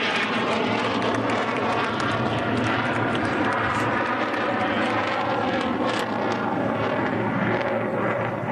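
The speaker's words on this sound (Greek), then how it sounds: "η τελευταία διέλευση του σμιναγού Στράλι και του F-16 Fighting Falcon πριν την προσγείωσή" An F-16 Fighting Falcon fighter jet makes its final low pass before landing at an air show, filling the whole stretch with a loud, steady roar and rumble that scarcely fades, along with some wind buffeting on the microphone.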